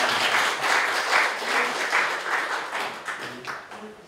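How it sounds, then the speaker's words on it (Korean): A small office audience applauds after a lecture, giving a short burst of steady, fairly close clapping that fades slightly toward the end. "소중한 강의해주신 김미영 사무총장님 다시 한번 박수 부탁드립니다."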